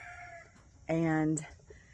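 A rooster crows once, a loud close cock-a-doodle-doo, among softer clucking from chickens at a farm coop.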